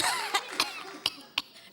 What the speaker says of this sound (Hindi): इन्हें खांसी आ गई